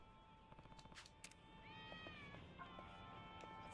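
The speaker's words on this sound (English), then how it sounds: "I hear a cat." A cat in the video game Yakuza: Like a Dragon meows in a drawn-out, wavering cry, faint and thin, following a few soft ticking sounds.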